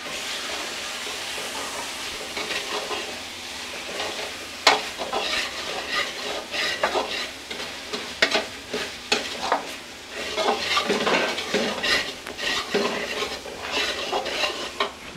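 A spoon scrapes and stirs tomato with ginger garlic paste frying in a pan for prawn thokku, producing steady sizzling with frequent sharp clinks against the metal, close and moderately quiet.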